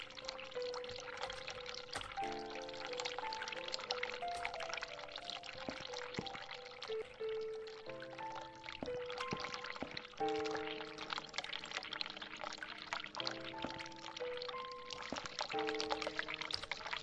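Hot water runs steadily from a tap in the horror adventure game The Cat Lady, a continuous pouring hiss under soft, sparse game music notes, with no talk.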